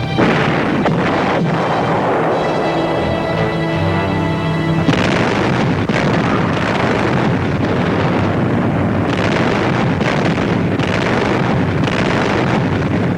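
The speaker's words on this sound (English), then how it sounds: "For 24 hours, American guns plaster the island of Leyte." American guns bombarding Leyte island in wartime, a dense, continuous roar of heavy artillery and explosions with rumbling low booms throughout, loud and unbroken, with no talking.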